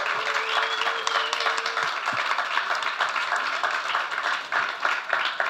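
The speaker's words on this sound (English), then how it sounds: "let's give them a round of applause for you guys" An audience at a sustainability panel discussion claps after the panelists are thanked, a dense run of hand claps that carries on steadily with a faint voice or tone briefly audible early on.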